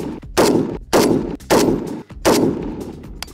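A PSA 5.56 Krink rifle fires at targets outdoors, four loud, sharp shots spaced about half a second apart, each with a short ringing tail, up close with no speech.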